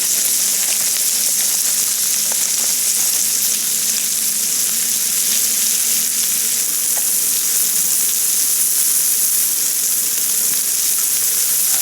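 Mushrooms frying in a hot pan give a loud, steady, close sizzle with a bright hiss that runs unbroken throughout, no talking over it.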